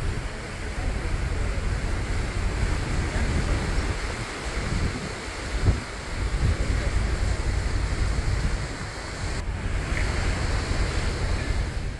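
Constant roaring wind and surf along the Irish coast near Rosslare, a dense close rush buffeting the microphone with no pause.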